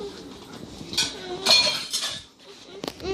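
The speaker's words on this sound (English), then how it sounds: "put the lid on the pot" Metal lid set onto a cooking pot while making caramel popcorn at home, giving a few close clinks and clatters of metal on metal.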